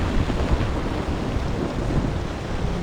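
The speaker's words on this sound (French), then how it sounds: "Et puis les vagues, le vent," Broadband rush of ocean waves and wind imagined on an alien world, a steady dense roar filling the whole clip without distinct breaks, fairly loud and close, no voices.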